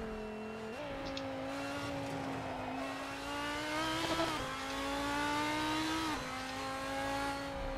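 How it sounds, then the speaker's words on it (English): A steady, buzzing car engine drone in the racing game Assetto Corsa on the Nordschleife, held at high revs, its pitch stepping up and down slightly as it bounces against the rev limiter, with no talking. "The rev limiter sounds so weird in this car."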